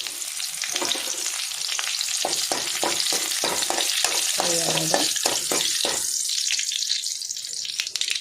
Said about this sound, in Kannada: ಇತ್ತೆ ನಮ್ಮನೆಕ್ಕೆ ಬೆಳ್ಳುಳ್ಳಿ ಪಕ್ಕ ಬೇರ್ಸೋದು